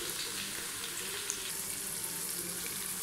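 Onions sizzle steadily in oil in a karahi pan with garlic-ginger paste and tomatoes, a close, even hiss of frying for a mutton karahi with no one talking.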